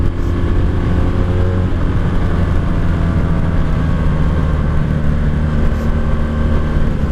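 Old 1984 Honda Sabre VF1100S motorcycle engine running loud and steady on a busy road at rush hour, a constant dense drone with no voices.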